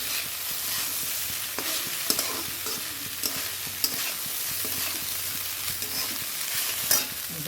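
Salted chicken frying in a home kitchen pan, with a constant close sizzle and occasional sharp clicks and scrapes of stirring, no voices.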